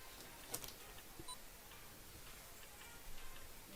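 Faint, sparse electronic beeps and ticks from a downed drone's strobe over a quiet hiss, short isolated pips spaced irregularly.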